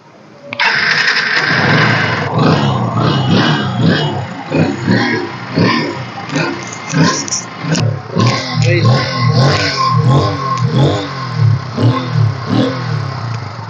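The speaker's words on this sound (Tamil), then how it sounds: "வாங்க ஸ்டார்ட் பண்ணி காமிக்கிறேன்" A Yamaha Fazer motorcycle engine cranks and catches, then idles loudly and close with repeated throttle blips revving it up and down.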